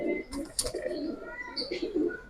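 Indian high-flyer pigeons coo softly and repeatedly at close range, with a few faint chirps mixed in and low background noise, no clear talk.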